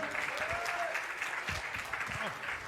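Audience applauding and cheering at a wrestling seminar as new commentators come on, steady dense clapping throughout with a few voices and shouts rising over it.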